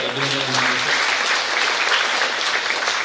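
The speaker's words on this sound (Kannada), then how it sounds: "ನಾವು ಅವರ ಕಾರ್ಯದಕ್ಷತೆ ಬಗ್ಗೆ ನಿಜವಾಗ್ಲೂ ಒಂದು ದೊಡ್ಡ ಚಪ್ಪಾಳೆ ಮೂಲಕ" A speaker's voice briefly gives way to sustained, dense applause from an audience at an International Women's Day event honouring a woman police officer, loud and even for the rest of the moment.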